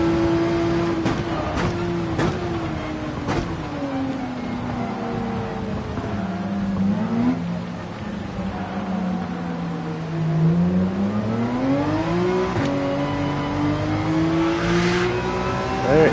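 Race car engine in Gran Turismo 7 during a Manufacturer's Cup race at Spa, a continuous loud whine that climbs and drops with gear shifts and braking, with faint clicks of shifts throughout.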